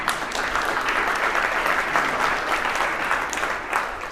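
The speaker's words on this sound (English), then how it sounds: "Give her a round of applause." A business conference audience gives a loud, close round of applause, dense clapping sustained for several seconds without talk.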